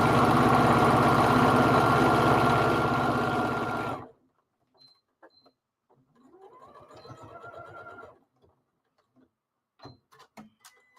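A sewing machine stitches through quilt batting in a loud continuous run for about four seconds, then stops abruptly, leaving quiet handling noises and a brief whirring pass before faint clicks.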